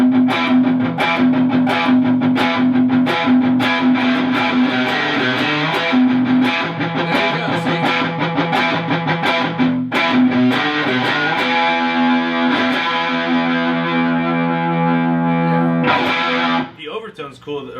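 An electric guitar plays through a vintage hybrid fuzz pedal with Marshall Plexi-like distortion, thick sustained chords and riffs loud and up front, ending on a ringing chord that decays away.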